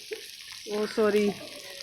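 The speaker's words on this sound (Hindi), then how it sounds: "और अब हम लोग इसमें ग्रीन मिर्ची ऐड कर रहे हैं।" Green chillies fry in a kadai with a steady sizzle, close and fairly quiet, with a brief tonal burst in the middle.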